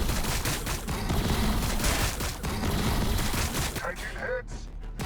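Dense, continuous volleys of distant and mid-range gunfire from a Battlesector battle, a rumbling fusillade with overlapping shots that thins out toward the end.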